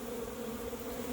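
A honeybee swarm buzzes around a hive box, a dense, steady hum of many bees close by with no gaps.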